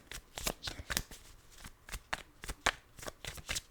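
Tarot cards shuffled by hand in quick, crisp riffling bursts, about a dozen sharp slaps repeating irregularly, close and fairly quiet with no talking.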